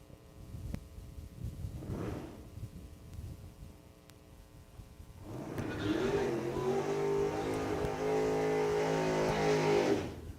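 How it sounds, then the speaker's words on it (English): The War Wagon, a drag race car, accelerates hard in a time trial, rising into a loud, sustained roar after a quieter idle and a brief earlier rev. No one speaks. "Shane Reese is going to be our final time trial car of the day"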